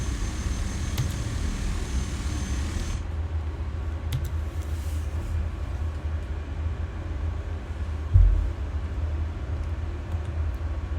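A Cessna Caravan turboprop in a flight simulator taxis with a steady low engine drone and whine, a high hiss dropping away early on and a brief thump later.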